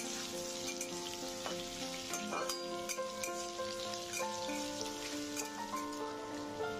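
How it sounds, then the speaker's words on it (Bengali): Potatoes fry in a little oil for a shyama rice khichuri, giving a steady close crackle and sizzle throughout with no voices. "আলুটা সামান্য তেলের মধ্যে ভেজে নেব"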